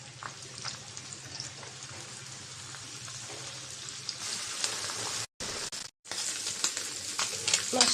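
Small mola fish fry in hot oil in a pan, a steady fine sizzle and crackle running evenly, with a brief break before the sizzling returns slightly louder.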